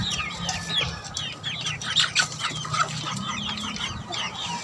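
A flock of young gamecocks clucking and chirping steadily at close range, many overlapping soft calls over a low background hum, with no talking.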